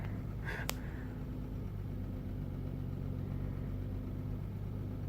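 A BMW E30 idles steadily at close range, a low, even engine rumble throughout with a brief higher blip near the start.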